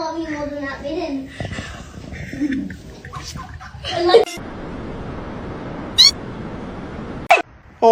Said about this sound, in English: Meowing.